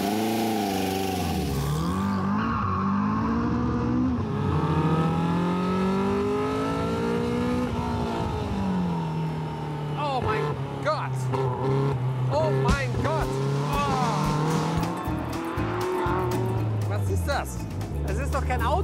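Caterham Seven 485 R sports car warming up on a track, its engine revving up and down in changing pitch from inside the car, with people talking throughout over the engine.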